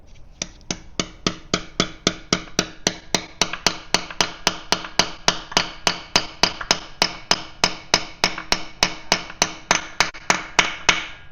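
A dipstick tube being hammered into a Kubota engine: about forty sharp metallic taps land in a steady, even rhythm, close and fairly loud, with no talking.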